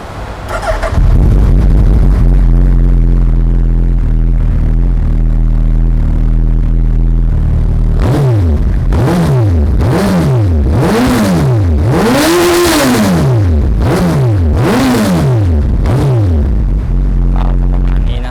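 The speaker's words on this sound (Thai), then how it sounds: "เดี๋ยวลองฟังเสียงเครื่องยนต์กันดูนะครับ" A 2014 Suzuki Hayabusa ABS sport motorcycle with an aftermarket exhaust starts up and idles close by, then gives a series of sharp, loud throttle blips that rise and fall repeatedly.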